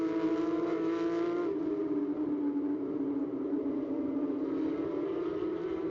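Porsche Carrera Cup Asia race cars at Zhuzhou circuit braking for the first corner, a loud sustained engine drone with harmonic whine that drops in pitch as the cars slow, then holds a steady roar.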